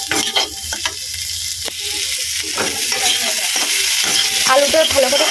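Potatoes being stir-fried in a spice masala, a close sizzle and crackle that builds steadily while a spoon scrapes and knocks against the pan.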